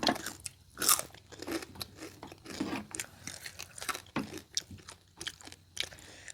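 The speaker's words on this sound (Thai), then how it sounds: "กรอบทะลุจอ" Close, crisp crunching and chewing of a spicy Thai-style crispy squid salad, with repeated bites and chews in an irregular rhythm, quiet but clear and with no talking.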